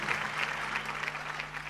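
Concert crowd at the Festival Alternativo in Ferro, clapping along steadily and loudly, a dense wash of hands over a low sustained hum, with no voices standing out.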